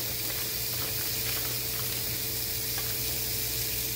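A stuffed bacon cheese burger sizzles in a pan over medium-low heat, an even, constant hiss with faint crackles and a low background hum, no voices.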